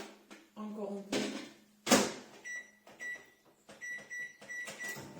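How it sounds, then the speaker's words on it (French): A kitchen microwave oven that is heating poorly hums while reheating ham and cheese croissants, with a clunk of the door and a run of electronic beeps as someone talks nearby. "j'ai vraiment mon micro-ondes qui me joue des tours parce qu'il chauffe pas beaucoup en ce moment"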